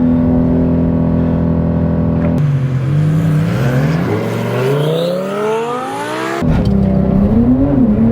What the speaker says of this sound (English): Here we go, half mile race, Twin Turbo Lambo versus Porsche.